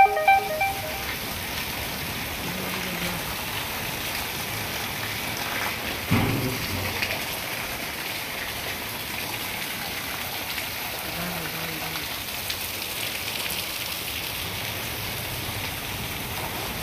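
Heavy rain pours down in a dense, continuous hiss that stays steady throughout, with one brief louder burst partway through and voices faintly underneath.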